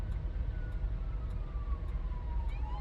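A steady, moderately distant emergency siren wails with slowly falling pitch sweeps in the Police Simulator: Patrol Officer video game. It plays over constant low traffic rumble, with no one talking.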